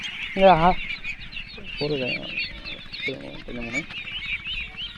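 Ducks at a riverside village duck farm in Bangladesh, with a few short, harsh quacking calls close by, spaced irregularly over a steady low background murmur.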